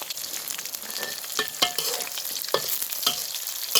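Grasshoppers deep-fry in hot oil over a fire with a bright, close crackling sizzle and irregular sharp pops and stirring clatter.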